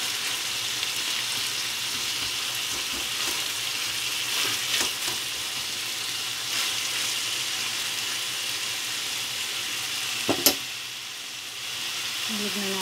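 Minced pork frying in a pan with carrots and potatoes, a steady broadband sizzle punctuated by scraping stirs and a sharp clack near the end, close and moderately loud.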